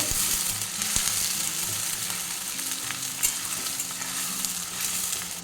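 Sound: fish frying in a pan

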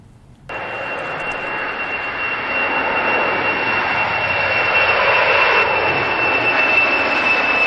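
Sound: recorded ANA airliner jet aircraft sound

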